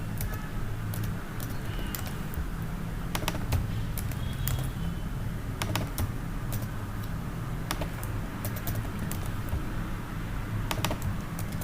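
Keys on a computer keyboard tapped in quick clusters with short pauses between them, close and crisp over a steady low background hum.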